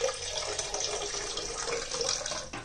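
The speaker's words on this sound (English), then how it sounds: "So then I'm going to pour some water from this in that first." Water from one container pours steadily into another for an aquarium ecosphere, a continuous close splashing trickle with no talk over it.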